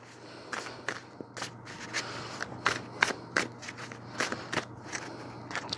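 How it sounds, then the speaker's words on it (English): A deck of tarot cards is shuffled by hand in a rapid run of crisp, papery riffles and slaps, roughly a dozen close bursts in an uneven rhythm, with no talking. "Sometimes I shuffle like this. Sometimes I shuffle messy."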